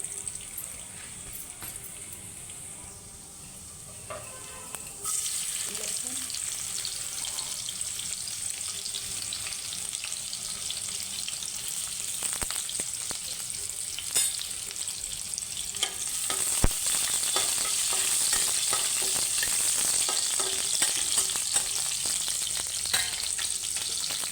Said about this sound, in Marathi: तेल गरम झालं की थोडेसे जिरे